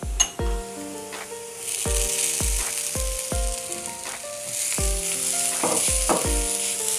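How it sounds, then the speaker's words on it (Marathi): Grated coconut sizzles as it roasts in hot oil in a pan for a Konkani-style kingfish curry, a steady close frying hiss broken by repeated metallic clinks of a spoon stirring against the pan. "आता आपण याच्यामध्ये ना किसून घेतलेलं खोबरं टाकून घेऊया"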